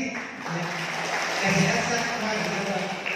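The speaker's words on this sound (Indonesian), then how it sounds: "Ya, tepuk tangan sekali lagi." Audience clapping at a community gathering, a steady wash of applause with a voice murmuring beneath it.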